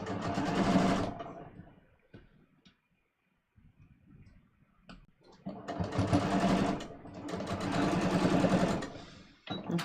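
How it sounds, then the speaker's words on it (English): A sewing machine stitches twill tape along the edge of jeans in two loud close bursts of rapid needle clatter, separated by a quiet pause with faint handling noises. "I'm sewing near the edge. That's going to allow me to make sure this is straight."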